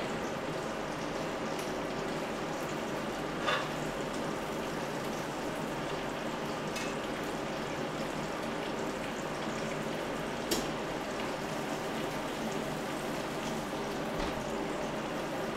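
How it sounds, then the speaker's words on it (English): Continuous crackling sizzle from a pan while cooking pistachio pesto chicken, a dense, steady frying hiss with occasional sharper pops, heard alone at a moderate level. "the sizzle sounds have started, so that's a good sign for us"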